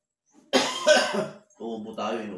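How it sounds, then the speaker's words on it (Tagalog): A person coughs in a short, harsh burst of two or three hacks at close range, then gives a pair of softer throaty coughs after a brief pause, with no other sound around. "Uubo tayo, inuubo."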